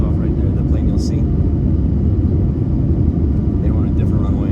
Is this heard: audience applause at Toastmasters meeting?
no